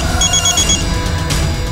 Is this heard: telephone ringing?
yes